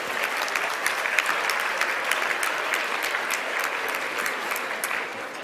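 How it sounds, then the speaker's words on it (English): An audience at an awards luncheon held at the Ritz-Carlton claps steadily in sustained applause, a dense patter of many hands that stays even and slightly fades at the end. "Let's give them a round of applause."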